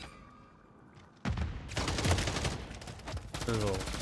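Bursts of automatic gunfire from the JAK Protean aftermarket weapon in Call of Duty MW3, loud and heavy, breaking in suddenly after a quiet lead-in and running in rapid volleys.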